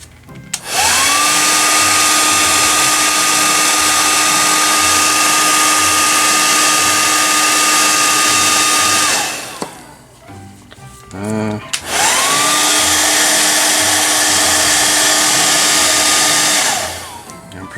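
A hair dryer drying paint on a custom Marvel Legends Venom action figure runs loudly in two long bursts with a steady whooshing whine, separated by a brief pause with handling clatter.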